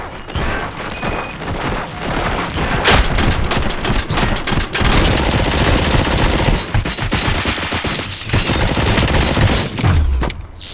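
Dense, sustained automatic gunfire from the RoboCop: Rogue City video game, loud and continuous bursts with heavy impacts and crashes layered throughout, no talking.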